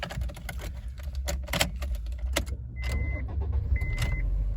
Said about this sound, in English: And then I'll just start the engine up, just so you know it does start without any problems.